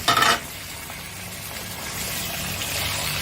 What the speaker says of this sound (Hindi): चिकन की हमने भुनाई करनी है अच्छी तरीके से